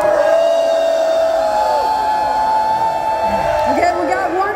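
A concert crowd at a show on a cruise screams and cheers for an encore, a loud sustained roar of whoops and yells from many people throughout.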